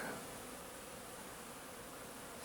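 Honeybees buzz in a dense, steady hum at an apiary during a midwinter cleansing flight, a constant close swarm drone.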